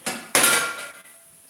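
Ceramic plates clatter and knock together as one is pulled from a stack in a kitchen, two sharp bursts of clinking close by followed by a faint scrape, no voices.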